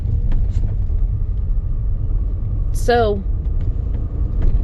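Backed-up street traffic of cars waiting to turn off the road makes a steady low rumble throughout, under close talking, with one brief rising-and-falling tonal sweep partway through.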